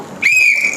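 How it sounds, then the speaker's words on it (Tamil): A simple toy whistle gives one short, shrill, steady tone lasting about half a second, loud and close. "இந்த விசில் ப்ளோ பண்ணும்போது"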